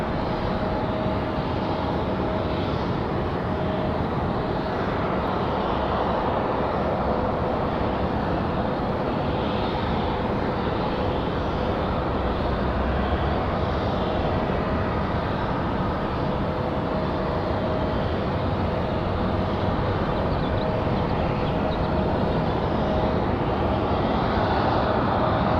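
A Boeing 737-700 jet at Raleigh-Durham airport roars loudly and continuously for the whole stretch as a broad, unbroken engine rumble with no talk.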